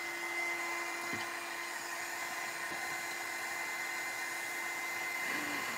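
A heat tool drying a craft pumpkin gives a steady whirring blower drone with a thin high whine, holding at an even level, with a few faint knocks.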